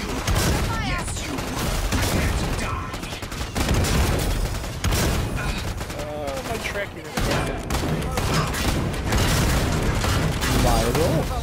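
In the Killing Floor 2 video game, dense rapid gunfire blasts at monsters and keeps up loud and nearly unbroken, with frantic game effects layered in and a voice talking over it.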